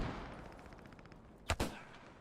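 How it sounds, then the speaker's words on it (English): A single sniper rifle shot in the video game Post Scriptum rings out as a sharp double crack, loud against a quiet, hissy background, and then fades. "He gets sniped by Keeper."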